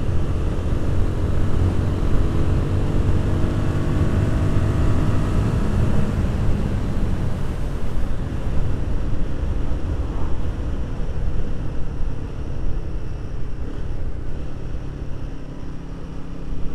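A Royal Enfield Guerrilla 450 motorcycle ridden on UK roads sends out a loud continuous intake and engine roar mixed with rushing wind, a steady drone that shifts in pitch as the rider accelerates.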